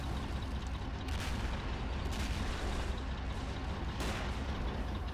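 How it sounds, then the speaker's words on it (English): Men of War Assault Squad 2 battle during a Battle of the Bulge city defense: a dense, continuous din of distant artillery and small explosions, with several sharper bursts and booms standing out against the steady rumble. "See all those little explosions."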